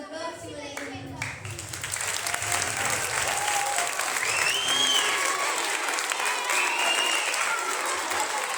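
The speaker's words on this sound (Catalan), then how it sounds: "que el vostre aplaudiment sigui molt destacat" Loud, sustained applause from a theatre audience at a staged Sant Jordi legend performance, swelling after a moment and holding steady as a dense wash of clapping, with crowd voices mixed in.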